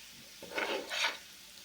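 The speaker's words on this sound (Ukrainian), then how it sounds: "Тепер морковку з цибулькою обсмажуємо на сковорідочці." Carrots and onions fry in a pan and are stirred, giving a soft steady sizzle with two brief, louder scraping swells close by.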